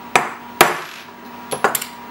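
A hammer drives a center punch into metal at a milling setup: two sharp, loud metallic strikes spaced apart, then a quicker cluster of lighter taps, each with a brief ringing decay.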